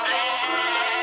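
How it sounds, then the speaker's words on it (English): A goat gives one sustained, wavering bleat, close and fairly loud, filling the whole short moment without other sounds. "along came a goat"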